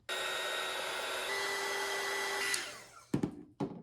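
A heat gun shrinks heat-shrink tubing over wire terminals for a DIY auxiliary fuse block. It blows with a steady, loud whoosh for about two and a half seconds, then winds down, followed by a couple of sharp clunks.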